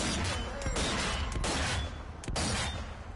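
Sniper rifle shots and heavy impacts in Zombie Army 4 co-op, a few sharp loud bangs over a dense, noisy battle background, no talk.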